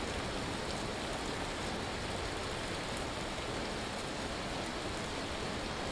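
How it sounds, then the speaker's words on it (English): Rain falling in the video game Vintage Story, a steady, dense hiss of rainfall that stays even and unbroken throughout. "Because it's raining, it's getting moisture."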